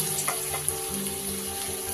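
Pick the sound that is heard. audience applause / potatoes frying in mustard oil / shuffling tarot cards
potatoes frying in mustard oil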